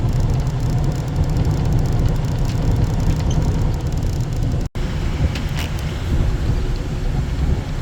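A truck's diesel engine with a 10-speed Eaton Fuller transmission, during a double-clutch downshift: a loud, steady low rumble that drops out for an instant mid-shift and then resumes, with wind-like cab noise.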